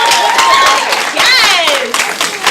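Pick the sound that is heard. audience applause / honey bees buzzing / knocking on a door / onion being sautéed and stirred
audience applause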